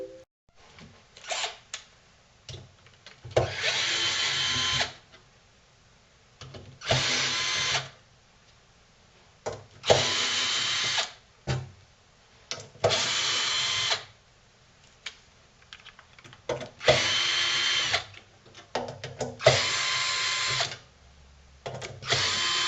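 A power drill unscrews the four screws down each side of a damaged Solax SL TL 4400T grid-tie inverter case, firing in repeated short bursts with quiet pauses between them, close and loud.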